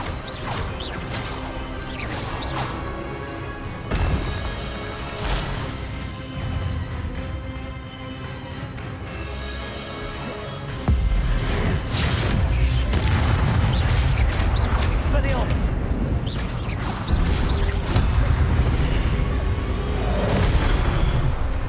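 Spell casting effects from the Hogwarts Legacy video game, including Incendio, Expelliarmus and Accio: loud booms, whooshes and crashing impacts in rapid succession over a dense game soundtrack, growing heavier midway.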